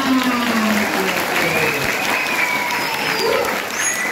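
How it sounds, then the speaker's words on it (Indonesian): Continuous, dense clapping from a school audience at an anti-bullying and narcotics awareness session, steady and loud throughout with a faint crowd murmur underneath. "tepuk tangan."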